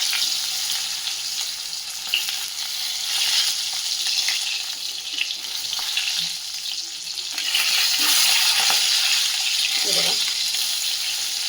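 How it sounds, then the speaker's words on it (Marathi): Stuffed green chillies sizzle in a hot pan as they are turned over, a steady close frying hiss with soft clinks and scrapes of the utensil, growing louder toward the end. "आणि ह्या मिरच्या आता थोड्याशा आपण पलटवून घेऊया"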